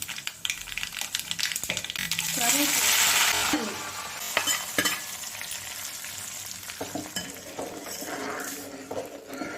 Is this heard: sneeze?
no